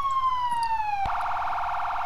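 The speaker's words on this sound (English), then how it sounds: "Turn off your siren, I think he's stopping." Police car siren wailing in a falling sweep, then switching abruptly to a faster, steadier electronic tone, loud and close with no talking.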